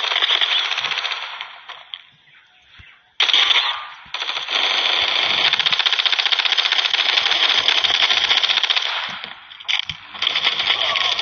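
Gunfire in the mobile shooter Standoff 2 rattles in long, dense automatic bursts, loud and up close, with a brief pause and a short break near the end, heard alone with no talk.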